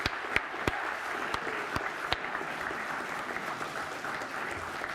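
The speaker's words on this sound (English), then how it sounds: "let's just give a big hand of applause to all people involved here" A crowd at a cycling summit applauds, the soft patter of many hands spread evenly across the room, with a few sharper, louder claps close by near the start.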